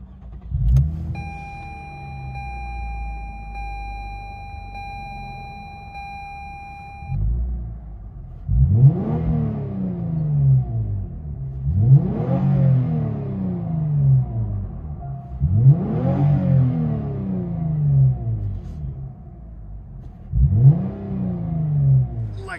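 Heard from inside the cabin, a 2021 Lexus IS 300 AWD with a 3.5L V6, dual exhaust and muffler delete rumbles at idle, then revs hard four times in steady swells, each rising roar falling back to a low drone.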